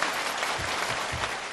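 A television studio audience applauding, a brief burst of dense, steady clapping from a crowd, moderately loud and continuous.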